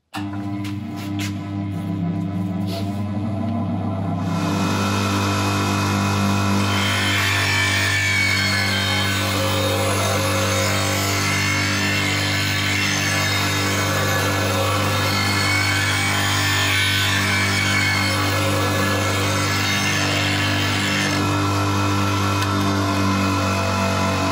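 A bench grinder runs steadily while a woodturning gouge is sharpened to an Ellsworth grind, its loud continuous hum overlaid by a rougher, wavering grinding rasp as the steel meets the wheel for most of the clip.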